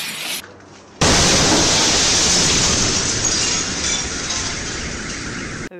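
The Chelyabinsk meteor explodes over Russia with a sudden loud airburst boom, followed by a long, sustained roaring rumble with faint rattling, heard from a distance.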